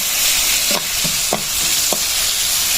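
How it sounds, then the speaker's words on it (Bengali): Onion, chili and garlic fry in a pan for a dried baim fish dish, giving a loud, steady sizzle with a few spatula scrapes spaced through it. "সুন্দর করে ভেজে নিচ্ছি পেঁয়াজ মরিচ রসুন তিনটায়"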